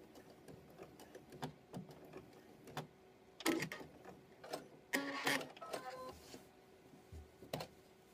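A sewing machine stitching a quilt binding, running in short bursts of rapid mechanical whirring with pauses and small clicks between, close and moderately loud with no talking.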